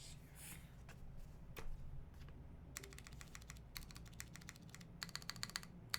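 Typing on a custom ergonomic TKL keyboard with lubed MX Brown switches, quiet close clusters of key presses in short bursts, some keys tapped repeatedly, separated by brief pauses.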